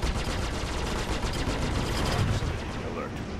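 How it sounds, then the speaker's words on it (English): Rapid bursts of gunfire strike an Aegis Sabre spaceship in the Star Citizen space game, a dense, continuous crackling barrage that stays loud and steady throughout without letup. "Taking fire."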